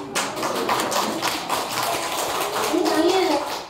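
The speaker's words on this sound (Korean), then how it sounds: "박수!" Applause from a lecture audience at a health and massage class, a dense patter of many hands clapping at close range, steady throughout with voices mixed in.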